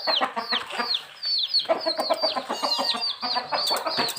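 Young chickens peep and cheep in rapid high chirps mixed with clucking from nearby fowl, close and busy, with someone speaking briefly among them.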